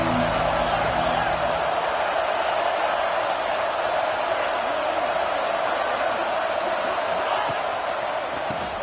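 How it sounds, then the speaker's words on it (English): A college football stadium crowd at Tennessee vs. UCLA roars steadily throughout, forming a dense wash of massed voices with no break. "This crowd ready to make its presence known."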